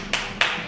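A group claps along during an active hour session, three sharp, evenly spaced claps over a constant background hum.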